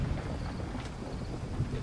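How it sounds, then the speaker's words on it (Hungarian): Stormy weather rumbles through the PC game S.W.I.N.E., a steady low roar of thunder and wind with a faint hiss of rain, moderately quiet and continuous with no voices. "Elég viharos az idő."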